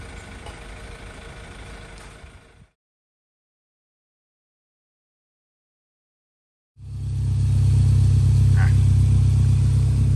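A car engine idles after a throttle body cleaning. A low, quieter running sound cuts to silence for several seconds, then a loud, steady deep idle starts up close and holds to the end.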